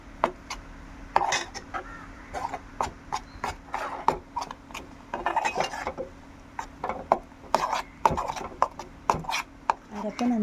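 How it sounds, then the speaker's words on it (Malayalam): Beetroot pachadi ingredients stirred in a pan for an Onam dish, with a busy run of sharp spoon-on-metal clanks and scrapes in uneven rhythm, close and fairly loud. "എല്ലാം കൂടെ നല്ലതുപോലെ ഒന്ന് മിക്സ് ചെയ്യണം."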